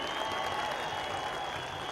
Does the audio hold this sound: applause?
yes